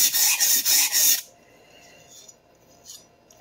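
Rhythmic rasping strokes of a stainless steel santoku kitchen knife on a sharpening stone, several loud close passes in quick succession, then stopping abruptly into quiet room tone.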